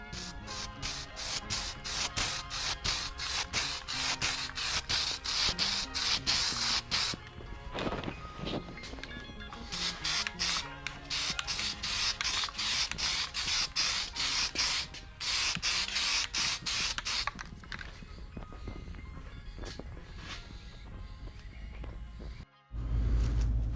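Cold galvanizing compound sprayed from an aerosol can, loud hissing bursts in several long sprays separated by short pauses, close up.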